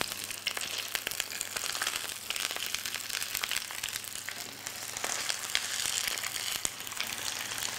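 A piece of fish fries in a non-stick pan, a quiet, steady crackling sizzle with small irregular pops, close and continuous, with no talk.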